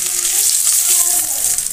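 Cumin seeds, bay leaves and dried chillies fry in hot oil in a pan, giving a steady, close, bright sizzle with faint stirring scrapes and no voice.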